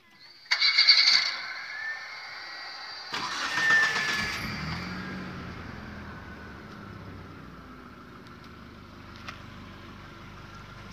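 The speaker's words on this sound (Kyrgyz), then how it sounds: "Азыр шуну басып турсак машина оталат." A car engine cranks and fires up at the press of a start-stop button with nobody inside, a short loud burst settling into a steady idle hum, with faint voices nearby.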